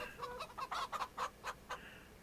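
Chickens clucking on a farm in the video game Farming Simulator 25, a quiet run of short, rhythmic clucks and squawks with no talk over them.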